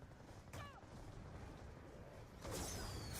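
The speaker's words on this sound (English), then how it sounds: "It shoots off fireworks whenever all 4 are in their correct position." In the Die Rise zombies video game, a dragon shoots off fireworks with whooshing launches and crackling bursts, one early and a louder one near the end, set against low game ambience.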